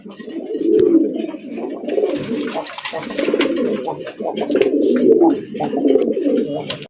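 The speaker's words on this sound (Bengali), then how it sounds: "কবুতর ডাকের উপরে আছে" Several pigeons coo steadily and close by throughout, a dense layered murmur of low rolling calls from a village loft of large, well-coloured rasgolla pigeons.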